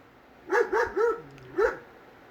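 A dog barks outside a woodcarving shop, four sharp barks, three in quick succession then one after a short pause, moderately near and alone without talk.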